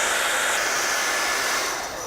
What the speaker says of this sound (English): And then we get the hairdryer to speed up some of the dribbles